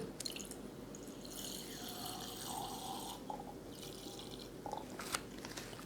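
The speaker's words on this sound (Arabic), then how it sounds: "نفتحه كويس، مش راضي يتفتح، هنصبه كده وخلاص" Pineapple cocktail juice drink, a blend of pineapple and apple juice concentrates, is poured from a stubborn freshly opened container into a cup, a soft continuous splashing and trickle at close range with faint clinks and no speech.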